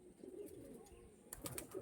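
Pigeons from a white breeder pair coo softly at a distance, with low, faint calls and a few brighter chirps near the end.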